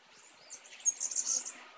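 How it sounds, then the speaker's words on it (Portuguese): Small birds chirp and tweet in a home garden around a fruit feeder, a scatter of bright, high calls building through the middle and end, fairly faint and with no talking. "aqui eu tenho onde eu coloco fruta pros passarinhos"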